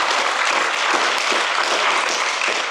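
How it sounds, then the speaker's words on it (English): Steady, loud audience applause filling a hall at a Vyasa Puja gathering at Bhaktivedanta Manor, a continuous wash of many hands clapping without a break. "Let's give him a big round of applause."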